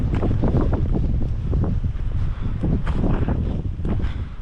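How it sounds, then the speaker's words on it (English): Loud, continuous rush of wind buffeting the microphone on Shortoff Mountain, North Carolina, roaring and gusting with low rumbling bursts throughout. "Just had a huge gust of wind blow towards us."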